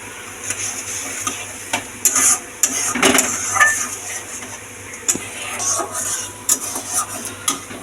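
Yogurt and fried onions stirred into a chicken biryani pot, with soft scraping, spoon and metal pot clinks and a faint sizzle in an irregular close-up rhythm, no talking.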